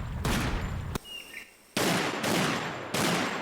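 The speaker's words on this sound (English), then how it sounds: "now that sounds like a Deagle" Loud bursts of Desert Eagle pistol gunfire in the video game Primal Carnage Evolution, coming in heavy repeated volleys that are broken by a brief quieter gap with faint ambient chirps.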